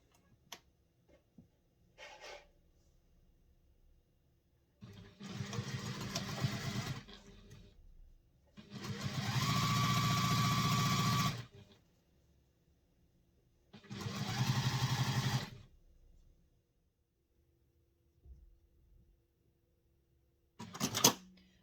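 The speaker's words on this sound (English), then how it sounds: "then we're going to sew it on the sewing machine with the seam allowance that is set" A sewing machine runs in several bursts of a few seconds each, separated by quiet pauses, with faint handling clicks between.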